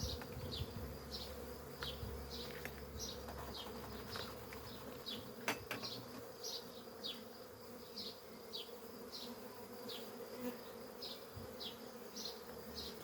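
Honeybees buzz steadily around an opened hive frame, a dense continuous hum with individual bees whirring close past at intervals, no voices over it.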